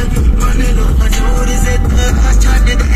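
Ten speakers in a Ritz car blast music at extreme volume, a loud, dense and constant wall of sound with heavy booming bass from start to finish.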